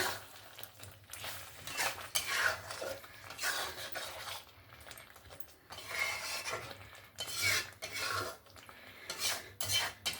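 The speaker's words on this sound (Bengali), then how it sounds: "মাছটা দিয়ে ভালো করে মশলার সঙ্গে মিক্স করে নিয়েছি" Pieces of katla fish being stirred into spice masala for katla kalia: rhythmic scraping and rubbing strokes of a utensil against the pan come in uneven bursts, close and fairly loud, with no talking.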